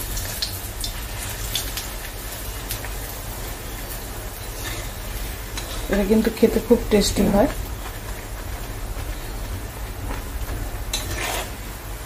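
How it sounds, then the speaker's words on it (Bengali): Bread slices frying one at a time in hot oil in a wok over a gas flame, with a steady rain-like hiss throughout and a voice speaking over it midway. "তেলটা গরম হয়ে গিয়েছে, এবার আমি ব্রেডগুলোকে একটা একটা করে ভেজে নিচ্ছি।"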